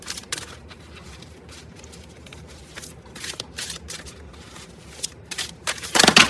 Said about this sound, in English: Actually gonna change the way I'm shuffling these